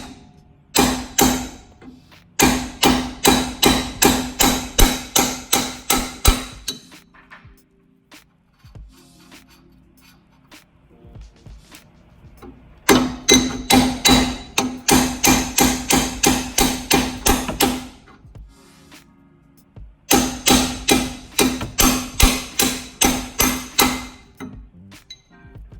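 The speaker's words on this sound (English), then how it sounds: "I'm going to take this punch and a hammer, try to knock that bolt out." A hammer strikes a metal punch to knock a suspension bolt out of a Montero, in rapid, ringing bursts of repeated blows, three long runs separated by pauses, loud and close.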